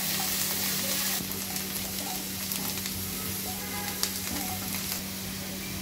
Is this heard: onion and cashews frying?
yes